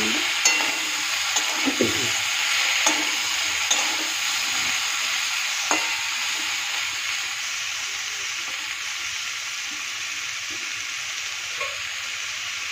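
Two raw tomatoes added to a pan of frying vegetables and stirred, a steady close sizzle punctuated by periodic spoon scrapes and taps, with no one speaking.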